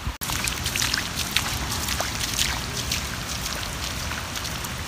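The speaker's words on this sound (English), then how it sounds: "the rain has begun." Steady rain falls outdoors, a dense close hiss of patter and scattered drops that continues evenly throughout with no voices.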